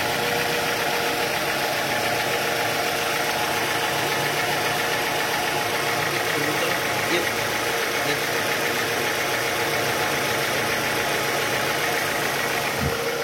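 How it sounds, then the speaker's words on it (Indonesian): Toyota Harrier engine idling steadily after repair work on the balancer shaft, valve cover and water pump, a constant close mechanical hum with light vibration and no talking. "jadi ini awal mesin hidup setelah kita beres ngerjain balancer shaft, cover valve, water pump"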